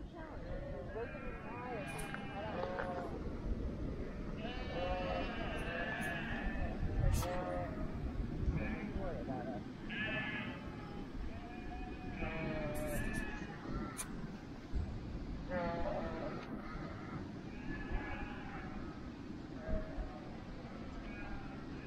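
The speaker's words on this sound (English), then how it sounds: "There's the black sheep." Sheep bleat repeatedly at varying distances in a field in Sun Valley, Idaho, scattered calls over a quiet outdoor background while people talk nearby.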